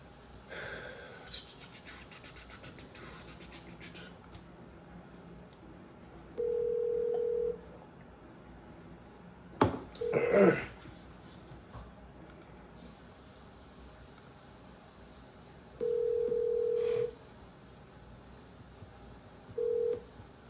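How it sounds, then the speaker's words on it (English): Phone dialer website placing a call: a few short electronic tones at steady pitch recur alone, with a brief burst of clatter between them, over faint background hiss. "sometimes we can dial a number on here and it'll like ring like that, like one or twice, and then it was cut off"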